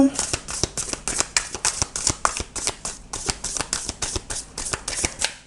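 Tarot cards shuffled, drawn and laid out by hand during a reading, a steady run of crisp flicking and slapping card sounds, close and fairly loud, with a voice speaking over parts of it.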